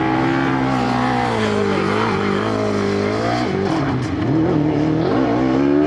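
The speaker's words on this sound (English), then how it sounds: "So here we have the 3 remaining cars out on the track." Formula SAE race cars lapping a track during an endurance heat, engines loud and close with a steady high-revving drone, pitch rising and falling as cars pass, with a brief dip near the end.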